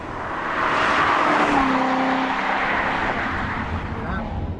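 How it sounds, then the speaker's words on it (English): A 2014 Chevrolet Corvette Stingray Z51 with its V8 pushrod engine drones and rises in pitch as it accelerates, a loud, sustained engine note that swells and then settles into a steady cruise, with a voice speaking over it. "This is the ultimate pushrod engine."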